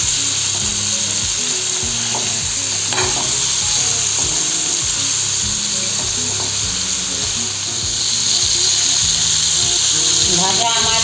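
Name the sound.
frying pointed gourd (potol) in oil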